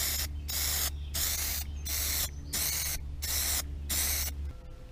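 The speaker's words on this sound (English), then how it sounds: "Now we're going to give it a good coat of Plastidip" Plastidip rubber coating sprayed from an aerosol can onto a hook, six loud, close hissing bursts in a steady rhythm, each about half a second long with brief pauses between.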